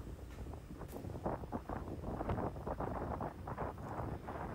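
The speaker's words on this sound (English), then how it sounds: "I'm outside of the ferry, and you can just hang on there, and it's just a little bit windy." Steady wind buffets the microphone on a ferry's outdoor deck, a continuous low rumble and gusty roar with faint rustling over it, no speech.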